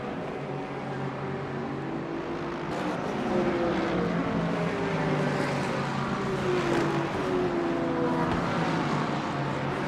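A Lexus GT3 race car engine in the Le Mans Ultimate racing game drones steadily with a continuous humming roar, rising and falling slightly in pitch, with no talk.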